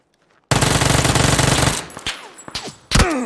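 A rapid, loud burst of automatic gunfire in PUBG runs for over a second. Sparser, more distant shots follow, then another sharp burst near the end.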